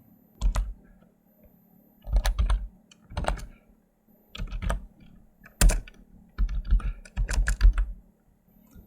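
Code is typed on a computer keyboard for an Android Kotlin app, heard as close, crisp keystrokes in short bursts separated by brief pauses, with no voices.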